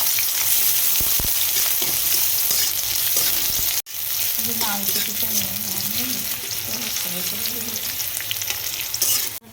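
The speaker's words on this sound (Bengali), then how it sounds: "রান্নার জন্য প্রথমে কড়াইতে তেল দিয়ে দিলাম, তারপরে পেঁয়াজটা দিয়ে দিব।" Two large chopped onions fry in hot oil in a wok, giving a steady, loud sizzle throughout with a brief break partway.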